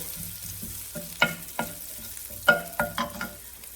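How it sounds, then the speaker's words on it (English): Cumin powder gets stirred into a pot of red lentil dahl, giving a soft background sizzle with a handful of sharp spoon scrapes and taps against the pan, close and clear, without speech. "I want to add 2 teaspoons of cumin powder and stir that in"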